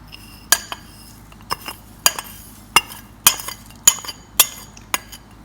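A metal spoon clinks against a bowl about eight times in an uneven rhythm while spices for a carrot pickle are mixed together, each strike sharp and close with quiet pauses between.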